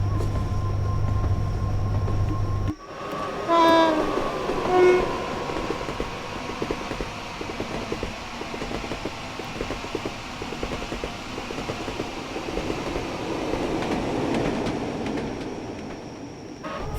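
BLU Class 87 electric locomotive hauling Mark III coaches on the West Coast Main Line between Preston and Carlisle in Train Sim World 5, a steady rolling rumble with a horn-like tonal blast early on, continuing as a sustained moving-train drone.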